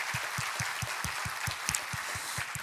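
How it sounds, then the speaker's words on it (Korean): A church congregation claps during Sunday worship, a steady, even rhythm of about a dozen unison claps filling the room at moderate volume, with no voices. "우리 하나님께 감사와 영광의 박수 올려드리겠습니다."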